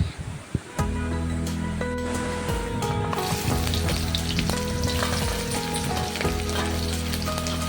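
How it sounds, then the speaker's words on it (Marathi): Whole spices, two red chillies, black pepper and three cardamom pods sizzle and fry in hot oil in a pan for a dhaba-style soya keema, giving a steady close crackling hiss with light stirring scrapes and no talk. "मस्त असे खडे मसाले त्यामध्ये परतून घेणार आहे।"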